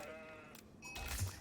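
Sheep bleat in an Age of Empires IV match between the Holy Roman Empire and the Malians, a brief faint game sound under quiet music.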